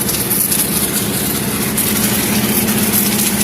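An air compressor and engine running at an auto-rickshaw diesel wash and service shop, giving a loud, steady, continuous mechanical drone throughout with no talk.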